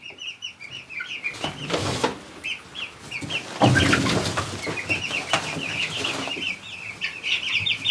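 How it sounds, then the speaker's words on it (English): One-day-old quail chicks chirping in high, rapid peeps close by, punctuated by rustling and bursts of scuffling as they move about. "So these are 1-day-old quail chicks."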